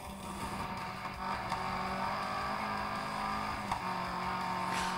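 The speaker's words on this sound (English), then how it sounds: "The steering and the sound of the car don't look right for what it's doing." An off-road car in the racing video game Gravel drones steadily, with a constant engine tone and a few brief rises in the revs.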